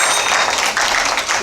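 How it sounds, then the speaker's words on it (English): A dense burst of audience applause for a team at a gathering, loud and continuous clapping from many hands filling the room. "Give them a round of applause."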